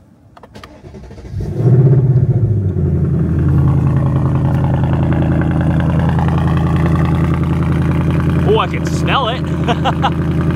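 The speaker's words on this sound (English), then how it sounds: "All right, exhaust mode track exhaust on." A Ford Mustang Dark Horse V8 in track exhaust mode fires up and settles into a loud, deep, rumbling idle with the valves open, steady and close, while someone speaks briefly over it.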